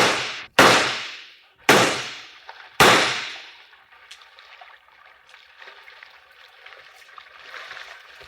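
Revolver gunshots fired on a boat, four sharp loud cracks with echoing decays in quick succession, followed by faint rustling and water-like background.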